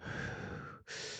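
A voice imitates someone breathing hard: one long, heavy, close breath, a brief catch, then another forceful breath.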